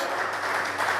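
Church congregation applauding during a sermon, a dense, even wash of clapping that fills the brief moment without pause.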